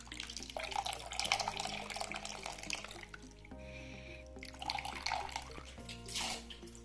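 Running water splashes steadily as fresh chhena in a muslin cloth is rinsed under cold tap water, a continuous wet gush with brief pauses, while a low steady hum sits beneath and no one speaks.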